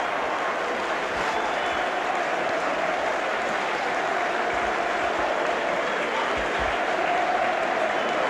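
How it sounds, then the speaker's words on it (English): Warrington rugby league fans in a far corner of the Leeds stadium applaud their players after the 1985–86 championship final win over Halifax, a broad, steady crowd roar of clapping heard from a distance, sustained and even throughout. "the Warrington fans over in that far corner now give their players a tremendous round of applause"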